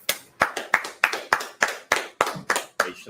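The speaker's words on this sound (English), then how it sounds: "All right, let's clap it up." Hands clap in a slow, steady rhythm during a Hebrew reading class, about ten sharp, close claps spaced evenly with no talk over them.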